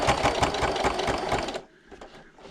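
A sewing machine stitches a patriotic pocket placemat at close range with a fast, steady mechanical whir, then stops abruptly to a quiet pause as the presser foot is raised at a corner.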